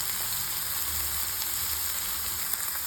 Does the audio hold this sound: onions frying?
yes